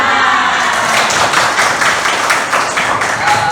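A class of students applauds together during a morning lesson, a dense, steady patter of many hands clapping close by, with no break for the full length.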